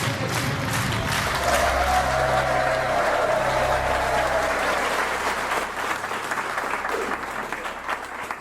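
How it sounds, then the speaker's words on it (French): Studio audience on a televised quiz show applauding loudly, a dense sustained clapping wash with some cheering, constant throughout and easing slightly at the end. "Mesdames, messieurs, applaudissements pour Ruby."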